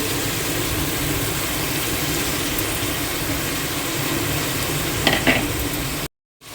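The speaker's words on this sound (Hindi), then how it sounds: "तो तेल में डाल देंगे पहले प्याज, प्याज को अच्छी सी थोड़ी सी पिंकिश हुए तक उसको तलना है।" Chopped onions fry in hot oil with a loud, steady, close sizzle that runs without pause, with a couple of brief clinks near the end before the sound cuts off.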